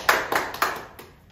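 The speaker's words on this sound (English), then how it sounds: "So we just wanted to give you a massive round of applause." A handful of separate hand claps, about four or five sharp close slaps spaced unevenly and fading, with no one talking.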